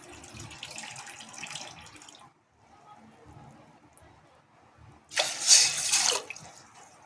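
Water pours into a bowl in a home kitchen, measured out by the bowlful for cooking dough, with a soft trickle early on and a louder, brighter splash near the end.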